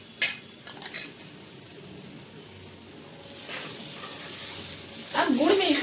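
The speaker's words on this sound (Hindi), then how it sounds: "अब गुड़ में इसे मिक्स करेंगे।" Spoon stirring a ground ginger and turmeric paste into melted jaggery in a pan: a few sharp metallic clinks early, then soft scraping and stirring with a faint sizzle, rising again at the end.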